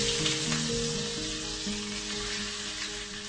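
Onion and lemongrass sizzle steadily in a hot pan with garlic while cooking Assam fried fish, a continuous close frying crackle with no voices.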